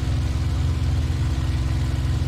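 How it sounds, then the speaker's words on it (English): A steady, droning piston aircraft engine in the WWII flight game IL-2 Sturmovik 1946, loud and constant with a throbbing low rhythm and no voices. "My engine's gonna conk out."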